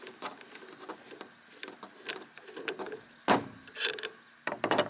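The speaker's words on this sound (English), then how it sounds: "Just unscrew the nut." Nut being unscrewed on a Rogue Fitness MG-4 multi-grip bar, close light metallic scrapes, clicks and clinks in an irregular sequence, with a sharper clank near the end.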